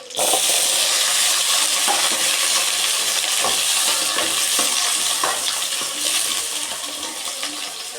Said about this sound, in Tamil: இதை அலசி எடுத்து வச்சுருக்கு அப்படியே எண்ணெயில் வேக விட்டுக்கிறோம்